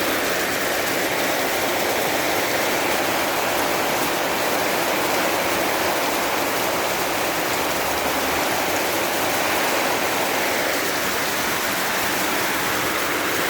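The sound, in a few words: rain falling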